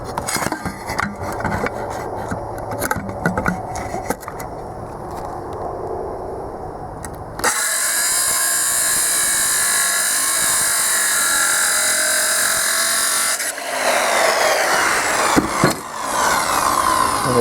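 A power tool cuts a small scrap piece of aluminum with a steady, loud, harsh whine. The pitch and character shift partway through as the blade bites. It is close, with no voices.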